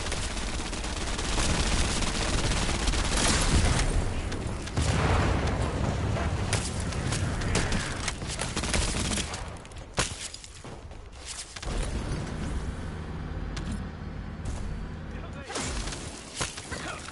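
Video game gunfire aimed at a defensive bonus aircraft in a shooter roars as dense, continuous rapid shots and booming explosions, loud and sustained with a few brief lulls, with a voice talking over parts of it.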